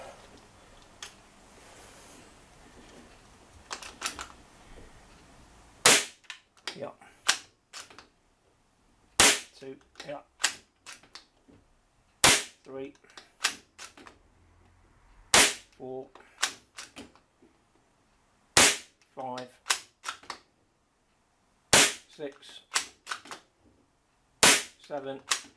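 Air rifle firing pellets from a Webley magazine, mixing RSW Superfield and Acapel pellets: about eight sharp, loud shots at a steady interval of roughly two to three seconds, each followed by brief mechanical clicks of cycling, with faint handling before the first.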